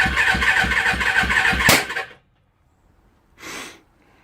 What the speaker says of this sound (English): Backfiring, too much fuel.